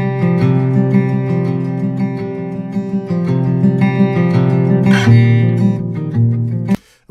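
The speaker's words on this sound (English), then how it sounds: "this is the sound of the acoustic." An acoustic guitar, recorded through a Townsend Labs Sphere L22 modelling microphone, plays sustained, ringing strummed chords throughout and then stops abruptly near the end.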